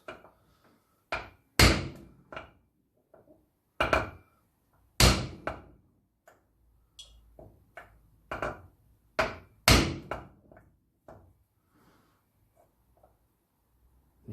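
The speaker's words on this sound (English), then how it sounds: "I know you shouldn't never hit hammers with hammers." On a Land Rover Series 3 2.25 diesel engine, a hammer strikes another hammer to seat new hotspots, giving irregular loud metallic knocks in clusters with quieter taps between, close by, no talking.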